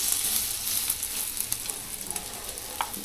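Bread omelette sizzling and frying in oil on a pan, a steady close hiss with small crackles and pops throughout.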